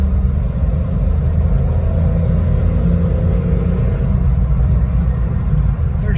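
A 1996 Pontiac Trans Am with a tuned port 350 V8 accelerates through the gears, a loud, steady low engine and exhaust rumble heard from inside the car.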